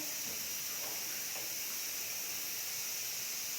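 Chickpeas sizzle in an iron kadhai after tempering, a steady soft hiss that stays faint and even throughout with no voices over it.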